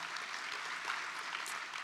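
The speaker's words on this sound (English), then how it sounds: "Let's give another round of applause to both David Jones and Jesse Armstead." Sustained audience applause at an anniversary celebration and awards gala, an even wash of clapping from a large crowd throughout.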